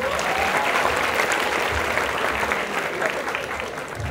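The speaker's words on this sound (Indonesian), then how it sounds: "Beri tepuk tangan dong yang jawab tadi." Audience applause fills a seminar room after participants answer a question, steady dense clapping throughout, with a faint voice beneath it.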